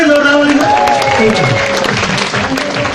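Loud, dense audience applause at a seminar hall gathering, a steady wash of many hands clapping throughout with voices faintly mixed in.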